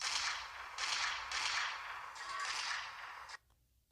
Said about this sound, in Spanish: Los estruendos provenían de la escopeta de papá.